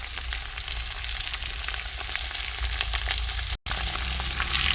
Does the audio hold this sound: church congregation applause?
no